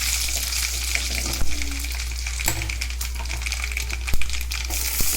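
Dried red chillies frying in oil in a pan for an uppu thanneer sambar, a loud, steady crackling sizzle throughout, with occasional metallic scrapes and taps from stirring.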